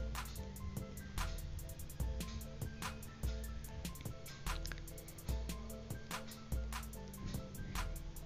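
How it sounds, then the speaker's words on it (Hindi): Water draining from washed sago pearls in a kitchen, with close, quiet drips and small liquid splashes falling in an irregular rhythm, alone and faint with no voices. "सारा पानी हम निकाल देंगे।"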